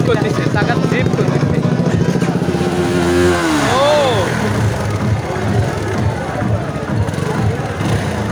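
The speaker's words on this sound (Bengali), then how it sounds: "বাইক স্ট্যান্ড শুরু হয়ে গেছে অলরেডি।" Motorcycles rev at a campus bike stunt show held by local bikers on a rainy evening, with a loud steady engine drone and one rising rev in the middle, over a busy crowd.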